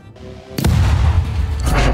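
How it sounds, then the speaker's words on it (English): A bomb on a stick blows up in TABS: a quiet low hum gives way to a sudden loud, deep blast whose rumbling roar fills the rest of the moment. "Blows up. Bomb on a stick, there you go."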